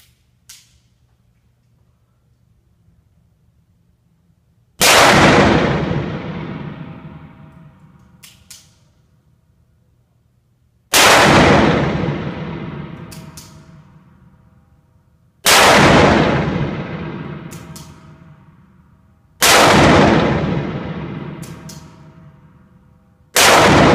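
Four loud, close gunshots from a Chiappa Rhino 50DS revolver fired outdoors, each a sharp crack followed by a long ringing decay, spaced several seconds apart.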